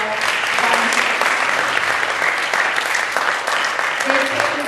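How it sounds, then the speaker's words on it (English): An audience at a school event gives a round of applause for volunteers, a dense, continuous patter of many hands that stays loud throughout, with some voices mixed in. "So again, another round of applause for our volunteers."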